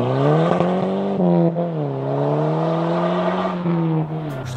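A tuned Volkswagen Golf 6 GTI with 420 Nm of torque pulls hard from inside the cabin, its engine droning loud and steady with harmonics climbing and dipping through gear changes.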